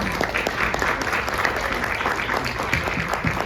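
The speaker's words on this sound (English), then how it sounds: "Everybody, a round of applause." A conference audience gives steady, dense applause for two presenters at a session's close, a continuous wash of clapping with no pause.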